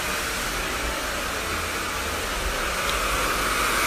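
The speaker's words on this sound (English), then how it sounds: "Always keep the hair dryer facing down, let the airflow do the work." A hair dryer blows steadily while hair is being dried during a short bob haircut, a constant loud whooshing airflow with no speech.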